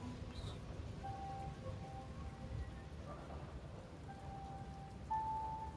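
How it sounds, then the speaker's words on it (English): Soft, steady rainfall in the game Slay the Princess, a faint continuous patter with occasional low rumbles beneath it, distant and calm. "Is there a reason it would be raining?"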